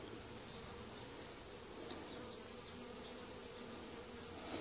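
Honey bees buzz steadily at an open hive during an inspection, a faint, even drone of many insects with no talk over it.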